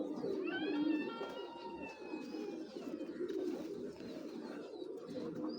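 Black checker pigeons coo close by in soft, throaty, repeated rolls, with a few faint chirps from other birds in the background.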